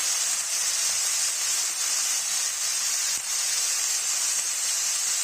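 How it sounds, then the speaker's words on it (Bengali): Broccoli frying in oil with salt and turmeric, a steady, loud hiss of sizzling that holds evenly throughout, with one faint knock near the end. "নুন হলুদ দিয়ে আমি এটাকে ব্রোকলিটাকে ভেজে নেবো ভালো করে"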